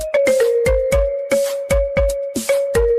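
A phone ringtone plays loud and close, a bright tonal melody pulsing in short repeated bursts with a steady sustained note underneath, no talking over it.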